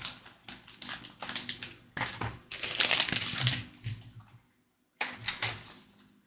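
Plastic wrapping torn and crinkled open to free parts of a 1:8 scale Batmobile model kit, bursts of rustling and crackling close up, then a brief silence before more crinkling.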